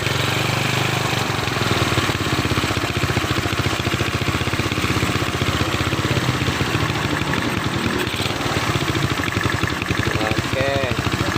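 A Honda Beat motorcycle engine, converted from fuel injection to a carburetor, idles steadily with a loud, even putter throughout, a brief voice surfacing near the end.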